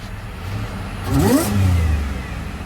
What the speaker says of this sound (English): once you change the cold air intake, trust me, believe me, it's gonna make you want to drive the car and give it gas every time.